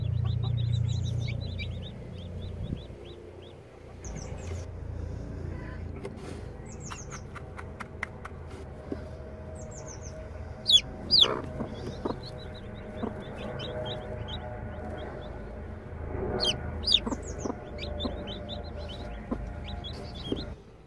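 Day-old Silkie chicks cheep in short, high, repeated peeps scattered across the whole stretch, some close and sharp, over a soft low background rustle, with no talking.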